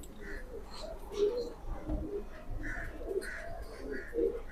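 A pigeon coos repeatedly in low, soft, rounded calls at close range, with a faint background hum throughout.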